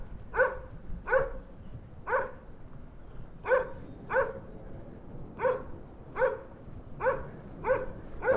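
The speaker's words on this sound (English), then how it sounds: "There's also a dog barking at me." A dog barks repeatedly at a passer-by in Meadowmere, Queens, single sharp barks spaced about a second apart, moderately close, over faint outdoor background noise.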